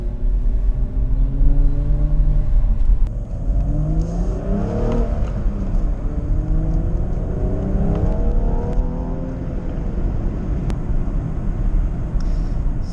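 BMW M135i with N55 engine pulling hard in second gear, engine note climbing steadily in pitch with rising harmonic sweeps, then shifting and climbing again; loud, close and continuous, no talk.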